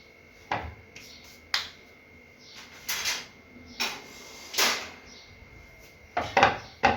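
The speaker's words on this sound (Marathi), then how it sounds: "हे बीटाचं आपलं पीठ मळून ठेवलं होतं मी 5-10 मिनटं थोडंसं, आणि हे आता लाटून घेते मी" Beetroot paratha dough being rolled out with a rolling pin in a home kitchen, heard as a series of sharp, separate knocks and taps at irregular intervals, close by and fairly quiet.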